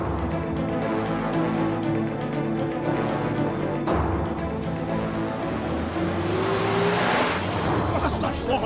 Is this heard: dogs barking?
no